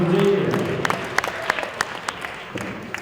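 Clapping from the crowd at a Quebec Games Olympic boxing medal ceremony for women boxers. Brief moderate applause is heard under a voice speaking, and it thins to scattered claps.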